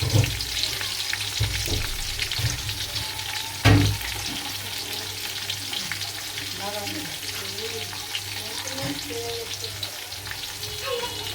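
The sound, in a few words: onion frying in a pan for biryani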